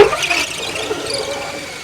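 A holesaw squeals as it bites into a workpiece, a bright high-pitched grinding whine that is loudest at the start and holds steady with slight wavering throughout, close up.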